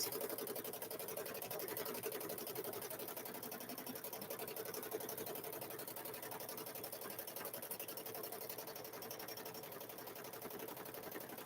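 Steady, continuous whir of a sewing machine doing free motion quilting on a Grinch handbag, even and unbroken throughout at a moderate distance.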